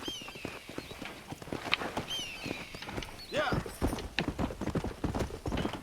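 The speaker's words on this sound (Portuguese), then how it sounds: "Aqui é o cavalo." Hooves of a horse in the Red Dead Redemption video game clip-clop steadily nearby with a quick walking rhythm, and a brief whinny comes through partway. Someone talks over the hoofbeats.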